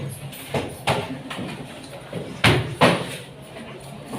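Books thumped down onto classroom desks, several sharp bangs spread through the room at uneven intervals, a couple louder and nearer than the rest, with faint voices and classroom murmur beneath.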